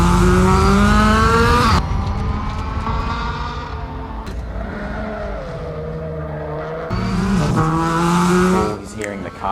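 Rally car from the Vanuatu Rally Championship, its engine revving loud and close with rising gear pulls and tyre noise, dropping to a quieter rumble midway before surging again, with voices in the background.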